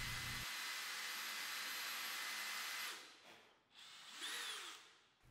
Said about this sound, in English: you have to use a step drill to drill out the countersink